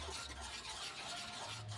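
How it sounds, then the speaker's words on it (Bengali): Pitha batter for Bengali fried pua pitha, made with nolen gur and lukewarm water, being beaten steadily in a bowl, giving a soft continuous scraping and stirring swish without pauses. "আমি এইটার সাহায্যে ব্যাটারটা একটু ভালো করে ফেটিয়ে নিচ্ছি।"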